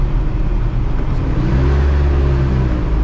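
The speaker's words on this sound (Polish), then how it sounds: "Śmieciara." A loud, steady engine rumble and whir as a garbage truck passes close by a moving Wartburg 353W car, with the low drone swelling in the second half and no talk.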